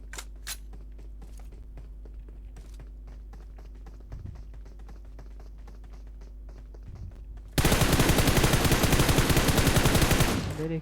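Gunfire in the PUBG Mobile video game: a few faint distant shots over a steady background hum, then a sudden loud burst of sustained automatic fire near the end.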